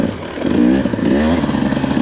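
A 2024 Husqvarna-style TE300 two-stroke dirt bike ridden on a trail in the Glass House Mountains, its engine revving and rising in pitch with bursts of throttle, close and loud throughout.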